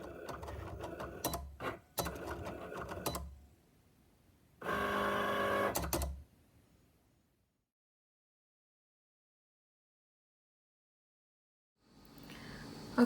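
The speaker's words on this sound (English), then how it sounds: "let's go over to the Cricut and cut this out" A Cricut machine cuts a vinyl decal in several bursts of whirring and clicking motor activity separated by silences, with a short mechanical buzz at the end, all close and fairly quiet.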